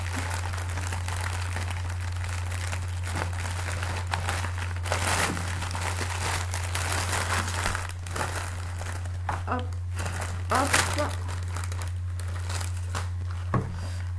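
Clear cellophane tied with a bow around a flower box is unwrapped by hand, giving continuous close crinkling and rustling with a few louder crackles, under a steady low hum.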